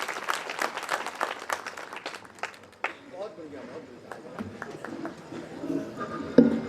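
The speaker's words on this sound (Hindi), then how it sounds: "जोरदार तालियों से उनका स्वागत" Audience applause welcoming a ghazal poet on stage at a Hindi kavi sammelan, a burst of clapping at the start that thins out, with murmuring voices and talk carrying on beneath it.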